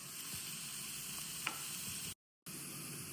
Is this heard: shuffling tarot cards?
no